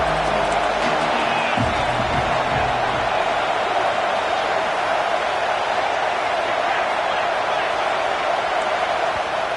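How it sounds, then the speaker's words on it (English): A football stadium crowd at Nebraska versus Arkansas keeps up a dense, loud, continuous roar of cheering that never lets up. "This crowd knows when to bring it."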